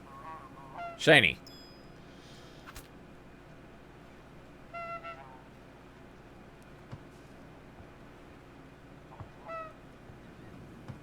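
Geese honking in the video game Knights and Bikes: one loud, close honk burst near the start, then fainter scattered honks over a low steady hum, with a brief spoken word in between.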